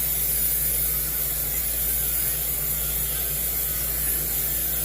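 Cooking spray hisses steadily onto a baking pan in a home kitchen, a continuous close spray with a low electrical hum beneath and no talking.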